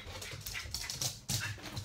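A dog, excited by warm rain, whimpers and whines in short, uneven bursts mixed with panting, close and fairly quiet, with rain noise in the background.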